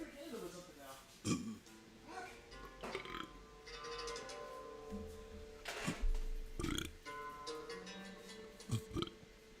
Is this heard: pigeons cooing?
no